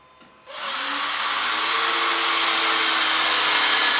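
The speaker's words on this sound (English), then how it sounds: "now it's time to put in some larger screws" A Hitachi 18V 2Ah combi drill, model DV18DSFL, spins up sharply and holds a loud, steady high-speed whine while driving larger screws, close and continuous after a brief quiet start.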